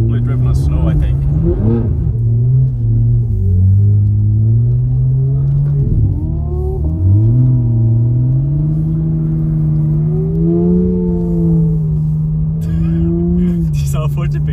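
Porsche 992 GT3 and BMW M3 G80 driving on snow, a loud, steady engine drone with rising and falling pitch as the cars rev and slide, close by, with people talking over it throughout.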